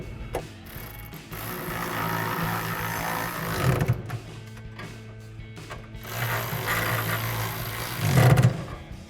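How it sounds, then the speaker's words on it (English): A ratchet with a 13mm socket tightens running board bolts on a 2019-2024 RAM 1500 rocker step install, giving rapid mechanical clicking in close bursts over steady background noise, with no talk. "we'll grab a ratchet with a 13mm socket and a 13mm wrench and tighten them both down"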